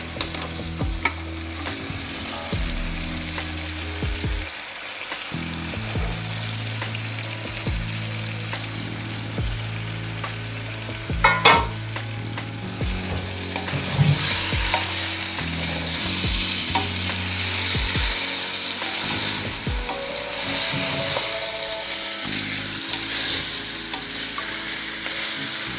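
Boiled potatoes stirred and fried in masala for aloo sabzi without onion or garlic, a continuous close sizzle under repeated scraping and stirring strokes, with a brief louder clank partway through.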